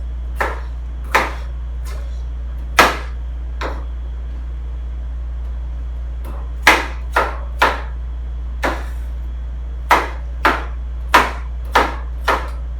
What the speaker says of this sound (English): you cut it in pieces that are small enough to go in the Vitamix